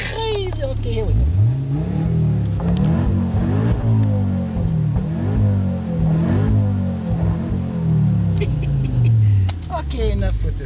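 A car engine cranks, then catches and revs up and down several times, the loud rising and falling whine running steadily and close by, with people talking over it.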